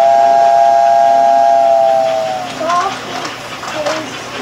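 A high American Flyer toy train whistle sounds steadily for about two seconds, then fades into softer chirps and a voice in the background.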